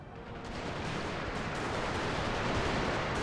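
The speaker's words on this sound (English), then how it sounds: "Time for the light troops to hold and start opening fire upon the enemy." A dense, continuous roar of artillery and musket gunfire from a large battle in the video game Napoleon: Total War, loud and steady and rising slightly, with no speech over it.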